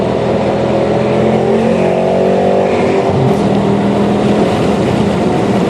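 A Dodge Charger R/T with Bilstein shocks and 275 tires runs alone on a race track, its engine droning loud and steady throughout with rising and falling revs, no talk over it.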